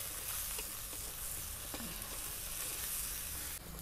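Ground spice paste frying in a pan for spicy coconut-milk pindang, a steady close hissing sizzle throughout with a few soft scrapes of stirring.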